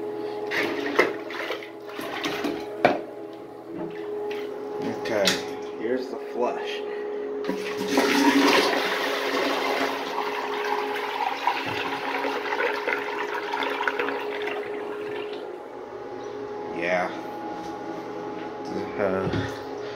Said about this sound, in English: Okay, here's a flush.